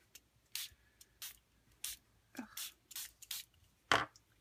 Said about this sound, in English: I'm going to actually spray